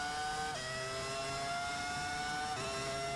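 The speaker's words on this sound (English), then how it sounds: "I'm also getting caught up in listening to your engine here." A V10 racing car engine holds a steady high-pitched whine with sharp upshifts about every two seconds, sounding continuous and fairly distant with no voices.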